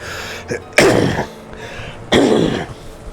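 Two short, harsh throat-clearing coughs, one near the start and another about a second and a half later, voiced for a character in the Umineko visual novel, loud and close with quiet pauses between.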